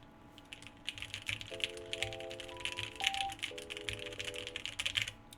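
Steady rapid typing on a mechanical keyboard with lubed switches, soft muted clacks in quick continuous rhythm, close up, with faint tonal hum in the background.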